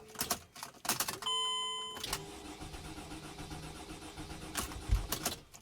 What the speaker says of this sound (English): So the engine cranks, but it doesn't start.